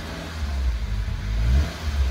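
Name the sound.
car engine revving through an aftermarket exhaust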